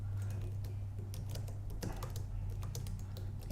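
Steady typing on a computer keyboard during a coding session, a continuous run of quick, close key clicks over a low constant hum, with no talking.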